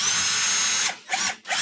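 A power drill runs in short bursts, driving screws back into a plastic KitchenAid or Whirlpool dishwasher panel; steady whine first, then two or three quick stops and restarts close by, no talk.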